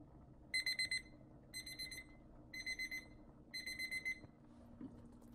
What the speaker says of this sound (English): Once the timer is done, fish out a piece of potato and check it to make sure it's fork tender.